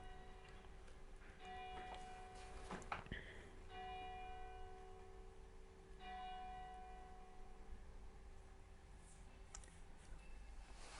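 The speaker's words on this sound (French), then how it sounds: "Stop la cloche aussi, ce serait sympa qu'elle soit pas là." A bell rings faintly in the background with several spaced, resonant strikes that linger and fade, over a steady low hum and scattered soft clicks.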